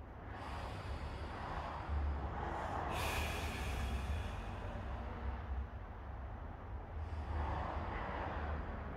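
Slow, deep breaths during a frog stretch, with long airy inhales and exhales rising and falling in a steady cycle, close and fairly quiet.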